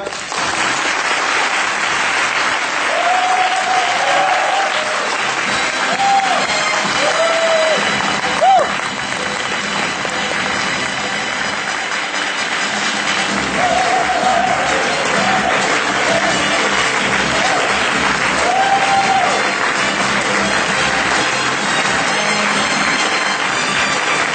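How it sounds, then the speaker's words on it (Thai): An audience applauds warmly in welcome of Somsak Chalachon, steady broadband clapping filling the room for the whole stretch, with a voice calling out briefly over it. "ขอเสียงปรบมือในการต้อนรับคุณสมศักดิ์ชลาชนครับ"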